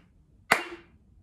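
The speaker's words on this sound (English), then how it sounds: "you're gonna clap two times and say ti ti" A single sharp hand clap, crisp and close, cracks out of near silence and trails off in a short ring; part of a rhythm lesson clapping beats for eighth notes.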